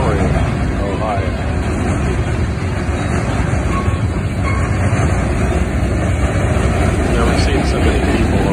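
A train rolls through the Iron Triangle Railpark at Fostoria, Ohio, a steady loud rumble with faint clatter running the whole time, while people talk nearby.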